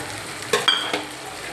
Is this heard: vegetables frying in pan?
yes